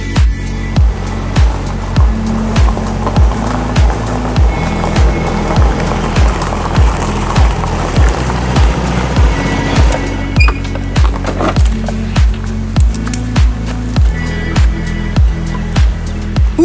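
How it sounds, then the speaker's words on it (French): Construction work and traffic along a street in Phuket, Thailand: heavy rhythmic thuds pound about every half second, loud and close, over a constant wash of road noise. "il y a des bruits de voitures, des bruits de travaux"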